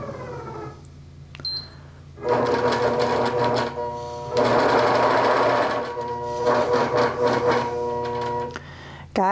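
A computerized quilting sewing machine stitches a tree wall-hanging in several loud bursts of rapid mechanical whirring, separated by pauses with beeps and faint talk.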